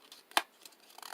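Paper folded and creased for a paper rose flower craft: a single sharp crinkle near the middle, with faint rustling and small handling sounds before and after, close up and alone.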